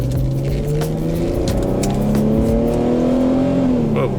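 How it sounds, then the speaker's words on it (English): An Infiniti G35 coupe's engine growls steadily and loudly from inside the car as a manual transmission is downshifted, its pitch rising in a rev before settling, with a constant road drone beneath. "I could hear the engine like growling too much"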